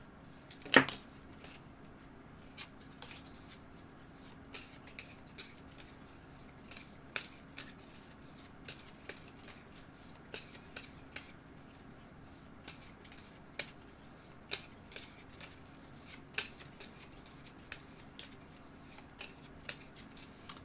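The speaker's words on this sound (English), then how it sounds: "And we're gonna shuffle these." A deck of game cards shuffled by hand, a long run of faint, sharp riffling clicks and flicks repeating at irregular intervals over a quiet background, with no talking.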